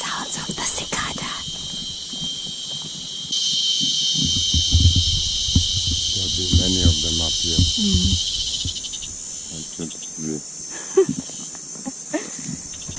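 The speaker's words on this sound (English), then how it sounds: "Sounds of the cicada." Cicadas in the African bush on a safari, a high continuous buzzing drone that swells partway through and carries on under quiet nearby speech.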